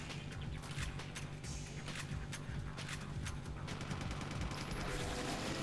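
Rapid bursts of gunfire in Onechanbara: Bikini Zombie Slayers, dense, continuous volleys of close shots packed tightly over a steady game-sound bed.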